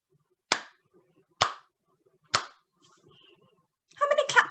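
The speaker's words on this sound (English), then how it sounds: "I'm going to do some clapping. Can you count how many claps I do?" Three crisp, close hand claps spaced evenly about a second apart in a quiet room, each short and sharp, followed by a voice speaking.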